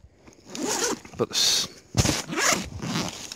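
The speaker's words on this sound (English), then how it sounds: "the YK zippers held up beautifully" A YKK zipper on a Maxpedition Monsoon pouch is run open and closed in several quick rasping pulls, close and clear, with a brief spoken word partway through.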